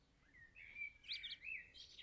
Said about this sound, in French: les gazouillis de ces petites créatures qui commencent à sortir de leur nid